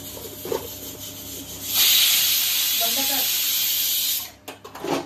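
A loud, steady hiss of steam bursts out and holds for a couple of seconds, then cuts off abruptly, with quiet kitchen sounds before and after.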